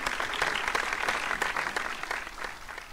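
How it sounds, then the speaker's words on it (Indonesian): Talk show audience applauding, a dense, steady wash of many hands clapping at moderate distance, sustained for a few seconds and slowly fading. "Boleh kita berikan tepuk tangan dan aplausnya terlebih dahulu?"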